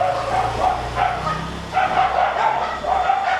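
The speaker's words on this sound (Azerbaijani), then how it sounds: "Hala bu qədər it olar." Street dogs in India bark in close, repeated bursts at a steady pace, the barks overlapping into a noisy chorus.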